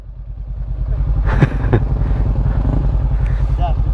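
A motorcycle engine idles with a steady low rhythmic throb at a lakeside campsite at Lake Mapanuepe in Zambales, heard close by while people talk over it.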